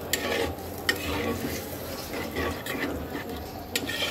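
Spice paste with a little water is stirred and fried in a pan for a katla fish curry, a soft continuous sizzle broken by a few sharp scrapes and taps of a spoon against the pan.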